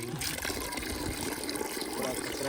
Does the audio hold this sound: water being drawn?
yes